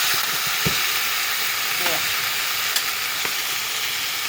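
Meat frying with onions in a hot pan, a steady broad sizzle and hiss with a few scraping stirs, close and continuous throughout.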